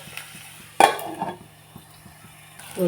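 A cauliflower and tomato curry is stirred in a pan. A sharp clank of a spoon against the metal opens into a soft scraping stir, with a faint sizzle and a few light taps, quiet and close.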